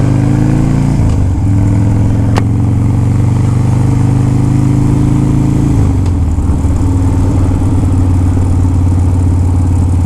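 A restored motorcycle engine runs close and loud, a steady mid-pitched idle that shifts in tone around a third of the way through, then settles into a slightly different steady rumble for the rest.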